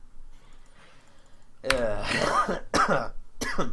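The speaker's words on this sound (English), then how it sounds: "Now excuse if I also cough a bit." A person coughs and clears their throat during live League of Legends game commentary: three harsh, close bursts follow a quiet stretch.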